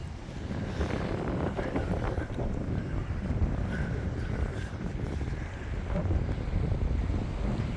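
Wind blows outdoors by the sea and buffets the microphone with a steady, loud, rumbling roar of gusts, with only faint traces of other sounds beneath.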